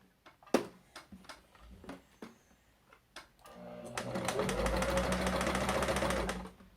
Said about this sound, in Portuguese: Vou costurar aqui a nossa distância de um pé de máquina